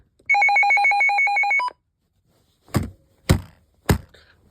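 A weather radio sounds its alert: a steady, loud, high-pitched pulsing electronic tone lasting just over a second, then three sharp thunks as the unit is handled, with no talking.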